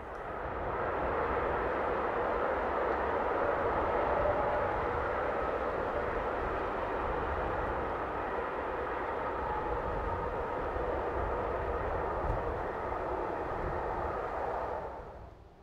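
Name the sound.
Taurus Class 183 electric locomotive hauling freight train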